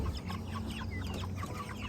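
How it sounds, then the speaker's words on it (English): Chickens clucking steadily during early-morning farm chores before dawn, a dense flock of murmuring clucks close by, continuous with no talk over them. "chickens"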